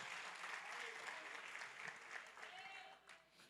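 Congregation applauding during an Easter church service, soft sustained clapping with a murmur of voices, fading slightly toward the end.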